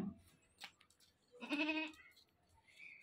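A newly bought goat bleats once or twice at close range, a short nasal cry standing out against quiet background with faint murmurs.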